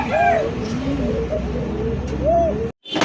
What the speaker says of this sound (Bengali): কোকা কবুতর ডাকটা খুব সুন্দর ডাকের ডাক